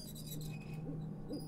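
In the Syberia 2 video game, an owl gives several soft, rhythmic hoots over a steady low ambient drone.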